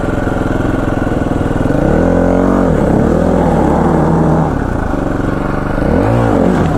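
The engine of a 2017 Husqvarna FE250 dirt bike fitted with a Rekluse Core EXP clutch runs loud and close, rising and falling through several revs over a steady idle.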